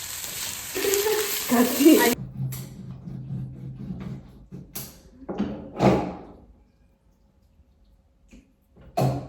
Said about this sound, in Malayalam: നമുക്ക് റൈസിനിടാൻ വേണ്ടി കുറച്ച് സവാള നമ്മൾ ഫ്രൈ ചെയ്യാണ് കേട്ടോ